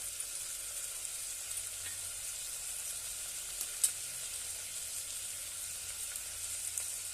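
Spices with garam masala, salt, red chilli and a little coriander being stir-fried in a pan for veg pulao: a faint, steady sizzle with occasional soft scrapes and light clicks of a utensil, no voices.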